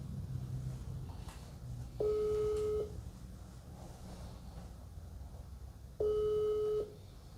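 A phone call to a wife rings out unanswered: two long ringback tones about four seconds apart, each lasting under a second, over a steady low background hum with no voices.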